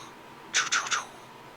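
Three quick, faint scratchy strokes on a drawing surface, made while animating a 2D flying bat, come one after another in a brief burst before quiet room tone returns.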